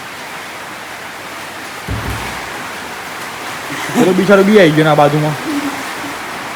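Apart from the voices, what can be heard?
rainwater flowing into the house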